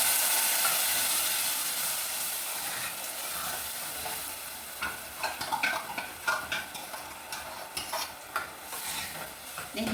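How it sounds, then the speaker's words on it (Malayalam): Curry leaves spluttering in hot oil in a pan while an amla curry cooks, steady frying hiss with sharp pops and stirring clatter growing busier toward the end, close up and without talk. "കറിവേപ്പില കൂടി ഇതിൻ്റെ ഉള്ളിലോട്ട് ചേർക്കാം. കറിവേപ്പിലിട്ട് പൊട്ടിക്കണം."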